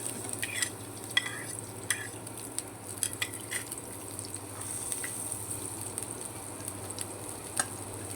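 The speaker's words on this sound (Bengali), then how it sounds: "রসুন দিয়ে দিলাম।" Chopped garlic frying in hot oil in a pan, a close, steady soft sizzle broken by frequent clicks and scrapes of stirring, with no talking.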